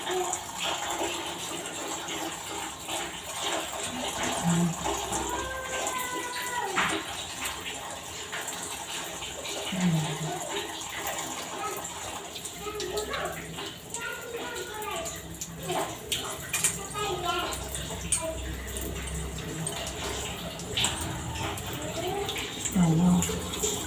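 Water runs from a tap during a shower and faucet repair, a thin steady flow mixed with metallic clicks and ratcheting of tools, while people talk over it at intervals.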